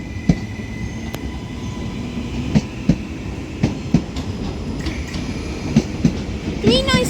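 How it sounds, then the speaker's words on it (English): A Transpennine Express Class 397 train pulls into Manchester Oxford Road station, a steady rumble with a rhythmic clickety-clack of wheels over rail joints and a brief squeal of wheels near the end. "Now arriving in is going to be a Transpennine Express Class 397."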